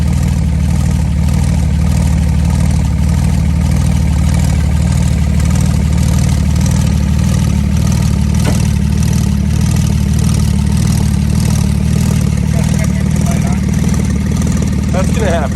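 A flood-damaged Porsche 911 Turbo engine runs roughly on a second start attempt, a steady low rumbling drone with uneven pulsing, nearby and continuous throughout, with some voices talking faintly underneath.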